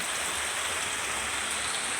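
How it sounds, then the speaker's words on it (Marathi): Steady rain falling, a dense even hiss of drops spread across the whole clip with no voices. "बाहेर बघा पाऊस चालू आहे"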